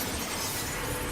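Glass shatters in a film scene as a man crashes through a pane, a dense sustained burst of breaking noise filling the whole moment without pause.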